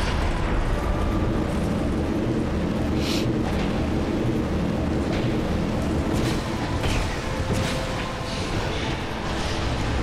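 A dense, rumbling explosion fills a Dark Souls 2 boss fight, loud and sustained over a continuous roar of game noise, with no voices.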